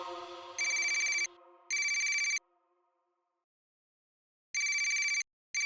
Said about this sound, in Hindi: ऋषि का फोन